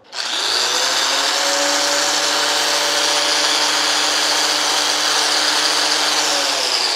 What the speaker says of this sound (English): we're gonna try running the grinder while the halogen lamp is plugged in